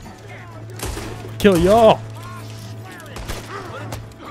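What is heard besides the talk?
gunfire in Red Dead Redemption 2 video game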